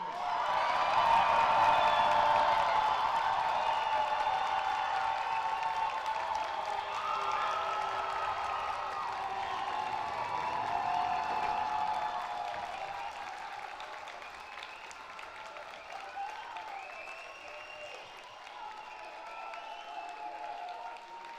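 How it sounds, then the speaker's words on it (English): A large crowd at a high school graduation ceremony claps steadily for the graduates, with scattered whoops; the applause is loudest at first and slowly thins toward the end. "Let's give one big round of applause to our graduates."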